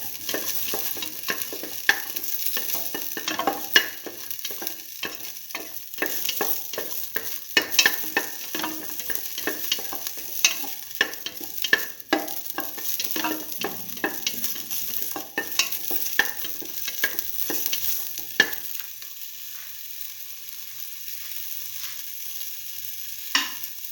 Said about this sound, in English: Now let the shallots fry for some time.